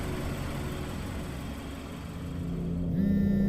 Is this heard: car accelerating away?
yes